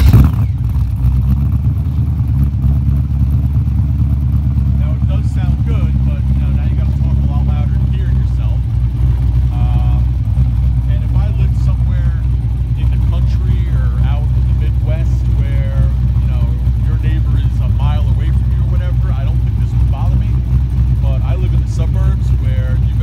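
An LS1 V8 swapped into a Nissan 240SX gives a deep, steady low rumble that runs the whole time, with voices talking over it for most of the stretch.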